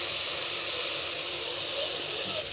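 Jackfruit biryani masala with green chilies, turmeric and coriander powder cooks in a pot, giving a continuous, even steamy hiss close by with no breaks.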